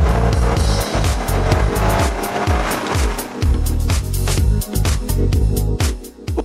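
A turbocharged Volkswagen Passat accelerates hard and close, the engine climbing repeatedly through rising revs with quick gear changes in a loud, pulsing rhythm.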